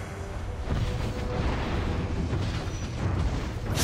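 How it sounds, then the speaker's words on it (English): Turret destroyed in the Mobile Legends video game, a rumbling explosion that swells and sustains for a few seconds, fairly quiet with a brighter burst near the end. "Your team destroyed a turret."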